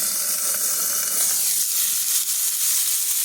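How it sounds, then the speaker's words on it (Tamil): Fish frying in oil gives a loud, steady hiss and sizzle close by, spitting throughout with no talking, at an outdoor park setting. "fish fry"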